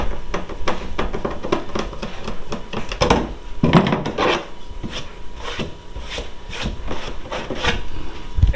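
A PVC deburring tool scrapes along a cut edge in a plastic kayak hull, a close series of rough rasping strokes repeated in an irregular rhythm with brief pauses between passes.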